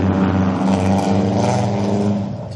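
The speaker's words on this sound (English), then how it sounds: "Couple of noisy cars." Loud, noisy cars accelerating past near an airport, a continuous close engine roar that holds steady and then begins to fade.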